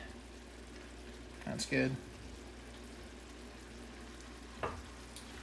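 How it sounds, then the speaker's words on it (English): Chicken and shrimp simmer in a pan with soy sauce, giving a soft, steady bubbling sizzle with a couple of brief clinks from a utensil, while a man makes a short remark over it. "It's starting to simmer again."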